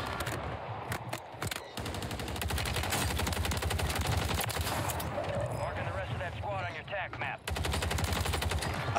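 Call of Duty MP5 submachine gun fire on Rebirth Island, rapid automatic bursts rattling almost continuously with brief gaps, loud and close, under excited player talk.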